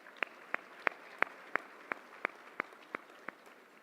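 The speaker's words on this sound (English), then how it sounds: "Let's give them a round of applause." About a dozen evenly spaced, sharp claps ring out at a ceremony, a single pair of hands or a sparse few clapping at a steady rhythm, fairly quiet against a hushed room.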